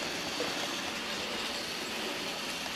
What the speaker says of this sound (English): We're backing right in, and we're going to stop that train.